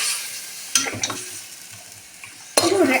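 Mutton chops sauté in a pan of oil and melted fat, giving a soft steady sizzle punctuated by sharp clanks of a utensil stirring, with a louder burst near the end.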